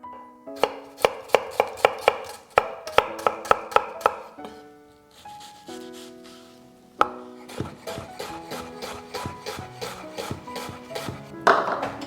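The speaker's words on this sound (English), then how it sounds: "Now we roughly chop the garlic since we'll be blending it anyway." Knife rapidly chopping garlic roughly on a board for pumpkin-ginger soup, close and crisp, with bursts of quick rhythmic strikes that pause briefly and then resume into a busier run of cuts, no voices.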